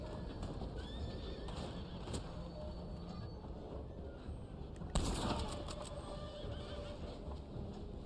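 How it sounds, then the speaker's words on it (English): Horses whinny and neigh in the Western video game Red Dead Online, a couple of drawn-out calls over a continuous bed of hoof clatter and outdoor noise, with a sharp burst midway. "the horses are back again"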